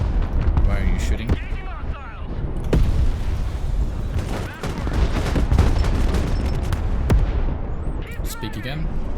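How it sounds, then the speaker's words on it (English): Artillery fire in the multiplayer war game Broken Arrow, with dense rolling booms and crackling blasts that continue for the whole stretch, loud and close, while players talk over the barrage. "Our allies are assisting with some good artillery."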